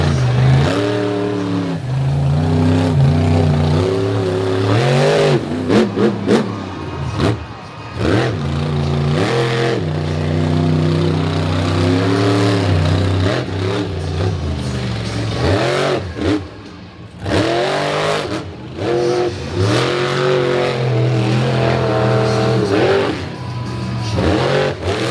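A Ram monster truck engine, the FTI Torque Ram, revs hard in repeated loud bursts during a freestyle run at a beach event in pouring rain, with rising and falling pitch and brief drops between throttle blips.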